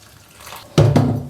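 Water is poured onto potatoes in a kitchen, beginning as a faint trickle and then turning suddenly into a loud, close, splashing gush that keeps running to the end.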